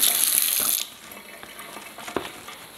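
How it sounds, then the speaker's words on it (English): Kitchen tap water runs loudly for under a second during handwashing, then cuts off and leaves quieter splashes, drips and small clatters of hands and sink. "just let me wash my hands again"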